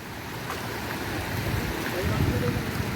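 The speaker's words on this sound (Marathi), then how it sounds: "इकडे पाणी वाहून राहिला आहे बघा" Lake water flows strongly at Bhivapur Lake, Amravati, a steady, loud rushing wash with wind buffeting the microphone, no voices over it.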